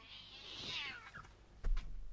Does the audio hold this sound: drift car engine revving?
no